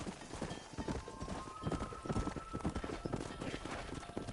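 Horse hooves clip-clop at a steady trotting rhythm in a Red Dead western video game, moderately close and fairly quiet, with faint character voices mixed in.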